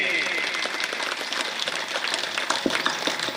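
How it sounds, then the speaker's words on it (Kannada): Audience applause for a couple being honoured at a Panchakalyana Pratishtha Mahotsava ceremony in Khanapur, a dense, steady patter of many hands lasting throughout, mixed with a voice talking over it. "ಈ ದಂಪತಿಗಳಿಗೆ ಚಪ್ಪಾಳೆ ಮುಖಾಂತರವಾಗಿ"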